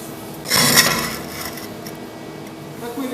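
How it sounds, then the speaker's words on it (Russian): A blackened weld seam on 2.5 mm food-grade stainless steel is cleaned with a short, close scraping and rubbing burst lasting about a second, followed by quieter handling noise. "Так как у нас пищевая нержавейка, шов немножко чернеет, мы его зачищаем."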